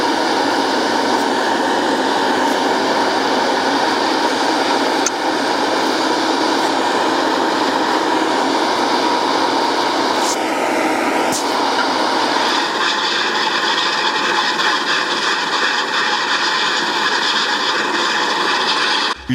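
A Claas Lexion 530 4x4 Montana combine harvester with hillside-levelling axles works a harvest field in the Champsaur bocage, giving off a loud, close, continuous mechanical roar and rattle that stays steady throughout.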